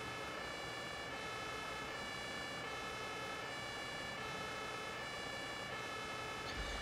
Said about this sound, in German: der vorne macht das Martinshorn nicht aus